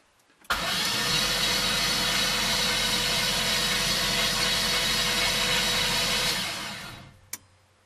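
Chevrolet Monte Carlo engine cranking on the starter as the key is held, a steady loud whirring churn lasting about six seconds before cutting off, followed by a brief click.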